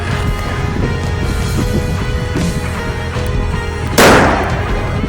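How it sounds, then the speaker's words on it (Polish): A single viper firecracker goes off outdoors during New Year's Eve fireworks, one sharp loud bang with a noisy burst after several seconds of steady outdoor background rumble. "odpalamy wajperkę"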